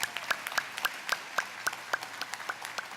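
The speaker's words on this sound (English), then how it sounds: "Let's give her a round of applause." Sparse, scattered hand clapping from a small audience at a campus ribbon cutting ceremony, faint and distant, with a few individual claps standing out in an uneven rhythm.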